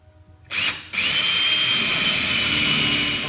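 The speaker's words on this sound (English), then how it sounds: "I'm gonna drill a hole." A power drill whirs loudly into action, pauses for an instant, then runs continuously at high speed, close up.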